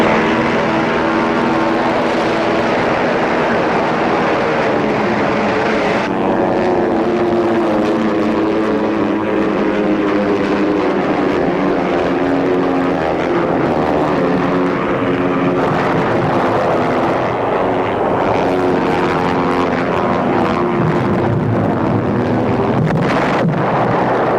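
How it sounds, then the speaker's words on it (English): WWII propeller aircraft fill the sky over Iwo Jima, a loud, continuous engine drone with pulsing propeller tones and shifting pitch, heavy wind rush throughout and no voices. "The sky is filled with enemy planes."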